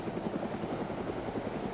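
A helicopter in DayZ, its rotor thumping in a quick steady beat under a continuous engine drone, close and fairly loud throughout the short stretch.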